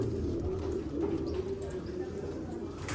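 Tumbler pigeons kept for breeding and sale give a steady low cooing that rolls on throughout, close by and fairly loud, with faint background noise and no clear talking.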